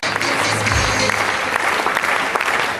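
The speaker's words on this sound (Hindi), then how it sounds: "एक बार इनके लिए जोरदार तालियां प्लीज।" Loud, continuous applause from a large seminar audience, a short burst of dense clapping at a steady level with faint voices mixed in.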